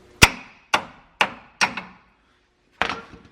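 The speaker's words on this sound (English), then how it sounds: "spray some lube on it, and then beat it out with a hammer" A hammer beats a stuck tie rod bolt out of the front end of an LBZ Duramax truck: five sharp metallic blows, four in a quick steady rhythm, then a pause before a last strike, close and loud with no talk.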